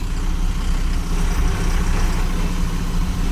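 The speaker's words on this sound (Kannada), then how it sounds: "ನಮ್ದು ಇನ್ನೊಂದು ಗಾಡಿ ಅಲ್ಲಿ ನಿಂತಿದೆ ಈಗ ಒಂದು ಗಾಡಿ ರಿವರ್ಸ್ ಆಗ್ತಾಯಿದೆ" A truck engine rumbles continuously in a truck parking area while a vehicle reverses, a loud, close, steady low drone of heavy diesel idling with no voices over it.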